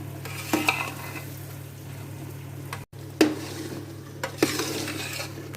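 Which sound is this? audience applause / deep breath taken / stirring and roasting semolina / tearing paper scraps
stirring and roasting semolina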